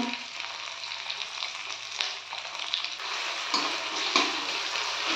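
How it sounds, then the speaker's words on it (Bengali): Mustard paste fries in a pan with onion and garlic, a close, moderately loud sizzle with bursts of crackling and stirring scrapes. "এবার এর মধ্যে আমি বেটে রাখা সর্ষেগুলো দিয়ে দিলাম"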